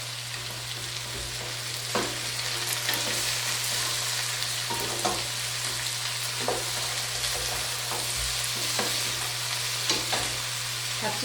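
Celeriac and potatoes sautéing in a soup pot, kept moving with a utensil: a steady sizzle under a low hum, punctuated by periodic scraping stirs.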